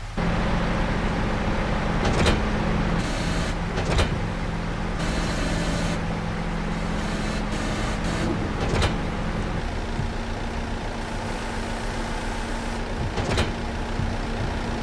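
Truck engine in Farming Simulator 25 drones steadily as a truck with a loaded trailer reverses uphill, with a few sharp clunks and hissing bursts over the low rumble, no talk.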